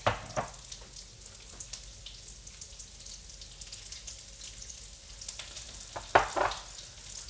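Vegetables and garlic going into hot grapeseed oil produce a steady, moderate frying sizzle with brief louder crackling bursts near the start and end, as if stirred or added.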